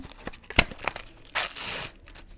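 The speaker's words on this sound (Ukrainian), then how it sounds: "тому що ми відкриваємо ось такий пакет" Close crinkling and handling of a paper packet, followed by a brief ripping tear as it's opened.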